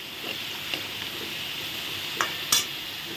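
Potatoes frying in a pan for a vegetarian dish, with a steady soft sizzle throughout and occasional stirring clinks and scrapes, the loudest one near the end.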